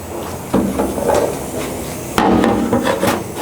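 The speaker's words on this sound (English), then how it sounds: "I'm going to hit that one right away." Two sharp hammer blows ring on metal about a second and a half apart, each followed by a brief metallic ring and lighter taps, knocking out a dent hammer-off-dolly.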